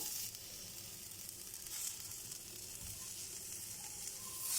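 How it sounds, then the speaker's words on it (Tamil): Masala fries in a pan on a switched-off stove with coriander leaves added, giving a soft, continuous close sizzle with faint stirring, quiet and steady throughout. "இந்த சூட்லேயே இது ஃப்ரை ஆகிடும்."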